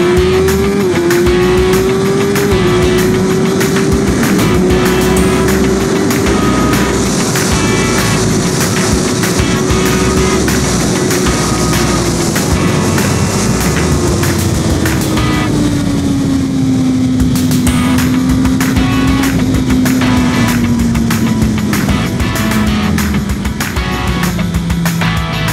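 A Suzuki GSX-R 1000 R motorcycle accelerates hard on a race circuit, its engine note climbing and holding in a loud, close, continuous roar that sags slightly toward the end, with no talk.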